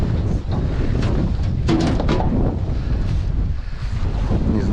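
Strong wind buffets the microphone out on open water from a fishing boat checking longlines in spring, a loud continuous roar with gusts and the wash of waves underneath.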